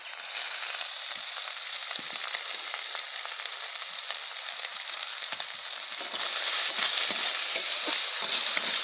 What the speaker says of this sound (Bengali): সোয়াবিনগুলো ভালো করে ভেজে নেব